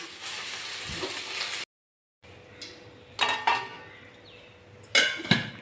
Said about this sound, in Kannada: ಇದು ಎಣ್ಣೆ ಹಾಕ್ಕೊಂಡು ಜೋಳಿಕಾಯಿ ಹಾಕ್ಕೊಂಡಿದ್ದಾರೆ. ಫ್ರೈ ಮಾಡಿಕೊಂಡು ಯಾವ ರೀತಿ ಮಾಡುತ್ತಾರೆ ನೋಡುವ ಬನ್ನಿ.